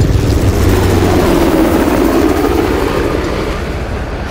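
A helicopter in the video game Uncharted The Lost Legacy drones with a loud, dense, continuous engine and rotor roar that fills the whole stretch, slightly easing toward the end, with no talk over it.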